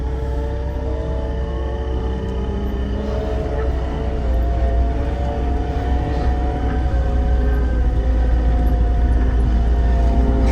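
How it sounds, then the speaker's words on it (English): Monday morning road traffic on a country road after a big snowstorm, a steady loud engine rumble of passing vehicles with tonal hum, continuous and near, no talking. "Monday morning traffic."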